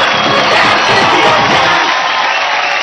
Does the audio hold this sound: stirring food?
no